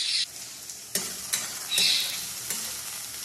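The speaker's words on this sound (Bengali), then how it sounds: "তার আগে এই সয়াবিনগুলো আমি ভেজে নিচ্ছি" Soybean chunks fry with salt in a pan, giving a steady bright sizzle broken by a few sharp stirring scrapes and clatters; close and fairly loud, with no voices.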